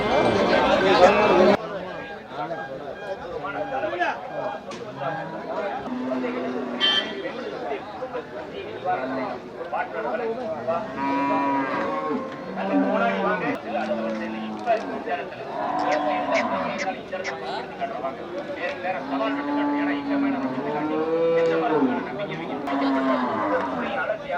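Cattle at the Melapalayam livestock market moo again and again, long, low calls from several animals rising over a steady babble of crowd chatter and nearby voices talking.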